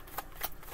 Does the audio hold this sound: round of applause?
no